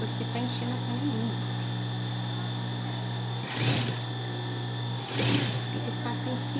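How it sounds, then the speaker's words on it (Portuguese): A sewing machine winds its bobbin with a steady, droning hum and a faint whine throughout, making an odd noise, while two brief louder swells rise over the constant tone. "Tá fazendo um barulho estranho, gente, é porque tá enchendo a caninha."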